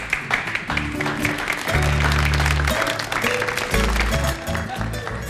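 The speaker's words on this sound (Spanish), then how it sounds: "Aplauso al señor Marco Brizuela." A crowd claps steadily and loudly for several seconds while music with a thumping bass line plays alongside.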